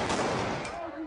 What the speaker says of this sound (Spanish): el sonido de los disparos dispersó a los inconformes